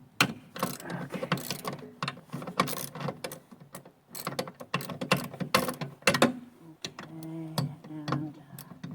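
Ratchet wrench clicking as it loosens a bolt on a John Deere 44-inch snow thrower mounted on a 300 series tractor. Bursts of quick metallic ratcheting come close up with short pauses, and someone talks between the bursts.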